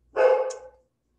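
A single short dog bark, clear and fairly close, then silence.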